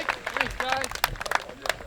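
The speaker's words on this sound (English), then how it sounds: "Been a long time since we've heard their claps." Spectators clap at the 2020 Ledgestone disc golf tournament, scattered claps rising and fading in the background while commentators talk over them.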